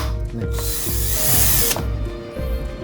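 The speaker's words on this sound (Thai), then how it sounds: "ไขควงไฟฟ้ากระตุกมันค้อนตอกนะครับ" An electric impact screwdriver works loose a tight screw on a Hatari fan motor, giving several loud rhythmic hammering bursts with a whirring motor and a brief high whine in the middle, close by and with no speech.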